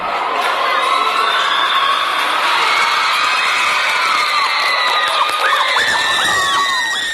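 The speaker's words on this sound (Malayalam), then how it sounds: "കോട്ടൺ ഹിൽ സ്കൂളിന്റെ ഹാളിലെ പല ഭാഗത്തു നിന്ന് സന്തോഷത്തിന്റെ ആർപ്പുവിളി" Students in the Cotton Hill school hall break into joyful cheering as results come in, a loud, close crowd of excited young voices whooping and shouting together without pause, with high-pitched shrieks rising through the din.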